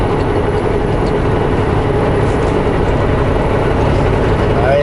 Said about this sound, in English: Oops, spinning my tires.